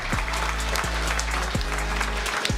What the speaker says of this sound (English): It's a rare moment where I am applauding along with the crowd.